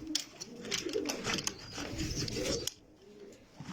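Pigeons in a loft coo in a steady overlapping stream, close and fairly loud, with a few sharper flutters and a quieter stretch near the end.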